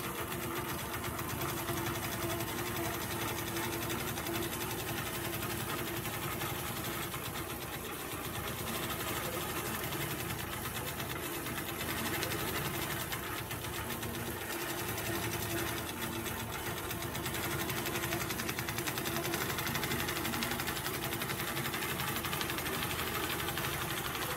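A longarm quilting machine stitches steadily through fabric, its needle driving in a fast, continuous mechanical whir that holds close and even throughout with no pauses.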